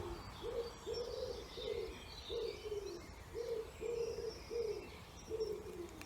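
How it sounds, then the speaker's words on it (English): A pigeon coos in a slow, repeated series of soft, low calls close by in the early morning, with faint bird chirps in the background. "we love it when the birds sing"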